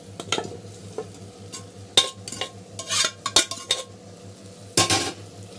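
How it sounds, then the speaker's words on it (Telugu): Boiled mutton is tipped into a pan of fried masala for a curry and stirred, with sharp metal spoon scrapes and clanks against the pan over a quiet background, in several bursts and no talking. "ఈ ఉడికించిన మటన్ని ఈ మసాలాలో వేసేసుకోవాలి"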